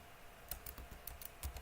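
Typing HTML code on a computer keyboard: a quick, uneven run of soft key clicks, close but faint, with no talk.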